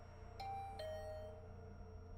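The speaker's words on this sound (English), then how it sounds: "The bell rang again." A doorbell chimes twice in a ding-dong pattern, the second tone ringing out longer, over a low steady hum with no talking.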